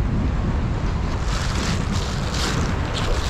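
Strong sea wind buffets the microphone at a jackstone fishing spot, a steady loud roar of wind and surf with no pauses.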